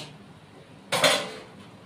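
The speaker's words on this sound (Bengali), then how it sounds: "এখন ঢেকে দিব।" A metal lid set down onto a cooking pot of Bengali pui shak stalk chochchori, a single clear clank near the middle, close and alone in a quiet kitchen.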